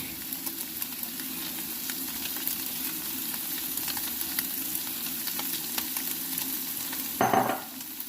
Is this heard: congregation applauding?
no